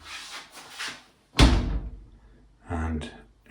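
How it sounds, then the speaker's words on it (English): A glass shower door swings shut with a sharp thunk and rattle, followed by a softer second knock a moment later, close and clear after some faint movement noise. "And now let's try the door again."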